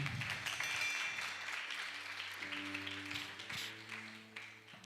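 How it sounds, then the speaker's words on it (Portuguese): Audience applause at a church seminar, a scattered crowd clapping at moderate distance and slowly fading over several seconds, with a faint hum and no talking. "Palmas para eles, minha gente."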